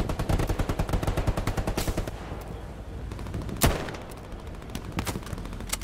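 Rifle gunfire in the World War II shooter game Hell Let Loose, a sharp shot standing out around the middle of a busy battlefield bed of rapid distant gunfire and rumble.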